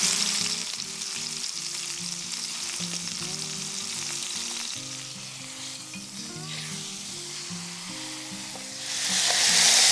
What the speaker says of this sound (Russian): Обжариваем 2-3 минуты с одной стороны